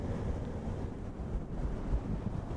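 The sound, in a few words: brushing sound like waves lapping on a beach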